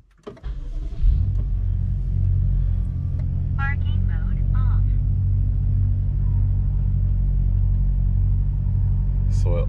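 Turbocharged BMW car engine starting and settling into a steady low idle rumble, close and continuous, with faint interior clicks and a voice speaking briefly over it.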